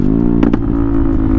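A CFMOTO 300NK motorcycle fitted with an aftermarket exhaust idles and revs close by, a steady low drone broken by two quick sharp blips.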